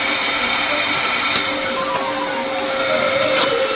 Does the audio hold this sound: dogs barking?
no